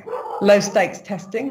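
Dogs barking indoors during a talk, a few short close barks and yips mixed with a person speaking.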